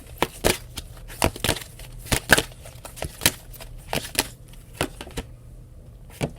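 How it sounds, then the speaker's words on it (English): A deck of oracle cards being shuffled by hand, a series of crisp, close riffling and tapping bursts in an uneven rhythm, with no voices. "I've shuffled this deck"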